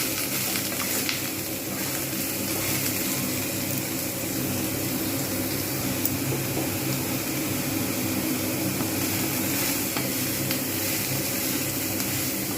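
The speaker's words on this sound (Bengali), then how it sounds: "তেল গরম হয়ে গেছে সুতরাং আমি সয়াবিনগুলো দিয়ে দেবো এগুলো সব ভালোভাবে আমি ভেজে নেবো" Soybean chunks fry in hot oil for a dhaba-style curry, giving a steady, loud, continuous sizzle with no break across the whole stretch.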